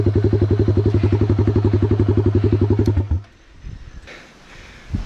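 Honda CB motorcycle engine thumping loudly and rhythmically up close on a steep trail climb, exhaust pulsing steadily for about three seconds before cutting off, leaving faint rustling afterward.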